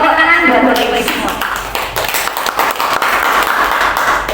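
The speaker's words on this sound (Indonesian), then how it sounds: "Tepuk tangan buat Bapak Ibu semua." Indonesian teachers' workshop audience clapping in a room, scattered hand claps rising under ongoing talk and a higher tonal voice at the start, irregular and moderately loud throughout.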